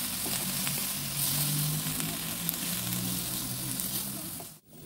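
Mustard greens and sliced carrots sizzle steadily in a hot pan while being stir-fried with seasoning for corn vermicelli noodles, a close, even frying hiss with faint stirring scrapes and no voices.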